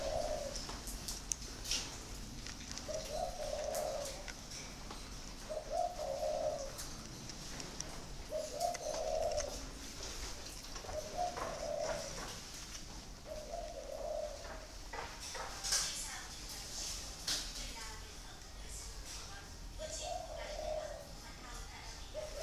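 Spotted doves cooing around a house in Vietnam, a steady series of soft, low coos repeating every couple of seconds at moderate distance, with faint chirps and background noise in between.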